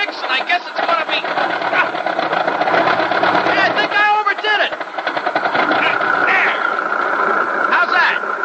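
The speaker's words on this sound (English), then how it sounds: "That engine doesn't sound too healthy." A sputtering farm engine as a 1947 radio drama sound effect: a rattling, chugging mechanical clatter running continuously while someone speaks over it.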